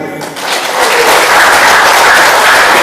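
A crowd at an inauguration ceremony for a car rental association in Southeast Sulawesi breaks into applause, swelling after a brief softer start into a loud, sustained roar of clapping that fills the rest of the moment.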